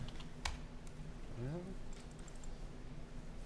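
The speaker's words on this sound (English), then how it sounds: "Bear with me for just a second while this keyboard does not want to work" Keys on a computer keyboard clatter in a short burst of taps during a city council meeting, sparse and close, with a voice murmuring alongside.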